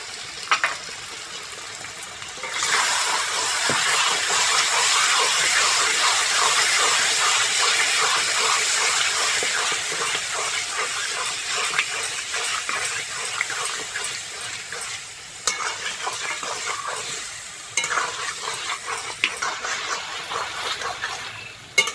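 Chicken cooking in a pan after sour yogurt is added, a loud steady hiss and bubbling sizzle that swells sharply, then runs on with occasional stirring scrapes and a slight dip later.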